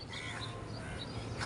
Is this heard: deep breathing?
no